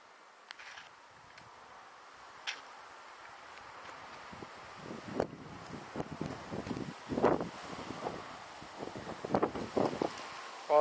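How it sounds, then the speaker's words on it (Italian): Wind blows outdoors in an orchard, a soft steady rush with gusts and rustling, low and fairly faint, with occasional small knocks and bumps. "Oggi c'è un po' di vento"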